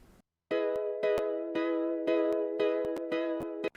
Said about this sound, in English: here's what this sounds like with no processing.